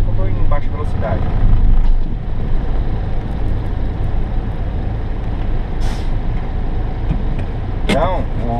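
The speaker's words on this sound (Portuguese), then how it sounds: "Estou em quinta, freio o motor, eu vou parar assim mesmo porque eu estou em baixa velocidade." A truck engine-brakes in fifth gear at low speed on a road in Japan, a steady loud rumble with short bursts of air hiss, under a voice talking.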